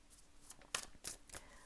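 Tarot cards shuffled close by, faint papery slides and three brighter riffling flicks spaced across a quiet background.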